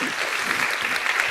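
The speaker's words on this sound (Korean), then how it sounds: "힘내라고 우리 박수 한번 쳐주시겠어요?" A church congregation applauds together, a dense, steady wash of many hands clapping at close range for the whole short stretch, with no voices standing out.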